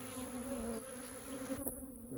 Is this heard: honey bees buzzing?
yes